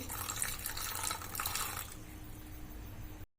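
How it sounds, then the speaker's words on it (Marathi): Water runs steadily into a pot of jujube berries for a few seconds, a broad rushing splash that softens toward the end before stopping abruptly. "आता त्यामध्ये आपल्याला बोरं भिजल एवढंच पाणी घालायचं आहे"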